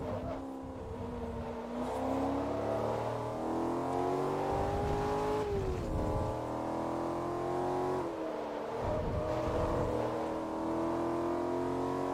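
A 3-litre inline-six engine in Forza Motorsport 3 holds a steady, loud drone, its pitch climbing slowly, dipping with shifts around the middle and end, with no talk over it.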